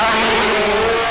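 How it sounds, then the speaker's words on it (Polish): A race car engine revving hard at a racing start, a loud, sustained high-pitched roar held steady throughout. "zwiększamy obroty silnika, staramy się wyczuć to sprzęgło"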